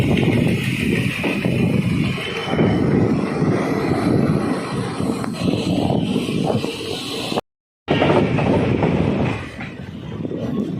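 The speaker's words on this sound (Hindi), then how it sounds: "Train is arriving at Najibabad junction railway station." The Ramnagar Chandigarh Weekly Superfast Express arrives at Najibabad Junction railway station, a sustained rolling rumble and rattle of carriages with a brief cut partway through, then the noise resumes slightly softer.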